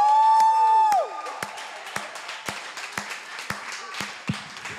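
Audience at an open mic night at Jirani Coffeehouse claps for a performer, scattered sharp claps at a steady pace following a sustained tone, with light crowd murmur and a cheer in a small room.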